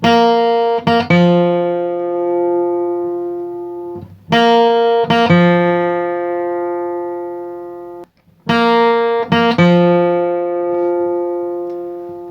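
Bright plucked acoustic guitar notes on open strings ring out with quick attacks in bluegrass style, a short picked phrase repeated three times with brief pauses, clear and close.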